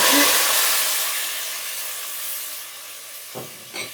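Ginger juice is poured onto hot caramelized brown sugar, giving a loud hissing sizzle that fades gradually, then a couple of short clinks and splashes.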